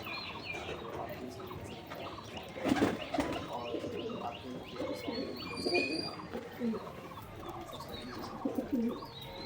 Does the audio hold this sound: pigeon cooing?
yes